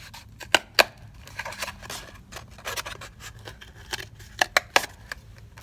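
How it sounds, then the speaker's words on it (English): Scissors snip through a paper tube in a series of crisp, close cuts, a few sharp snips standing out among softer rustling and scraping of the paper. "And then for the mouth, you're going to want to cut a V."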